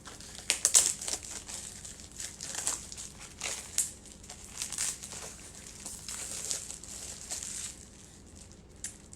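Plastic wrapping around a canvas is cut open, giving close, quiet crinkling and crackling in irregular bursts that continue for several seconds.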